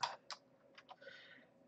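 A computer keyboard is typed on fast, giving a few quick, sharp clicks spread over under two seconds, faint and close, with no voices.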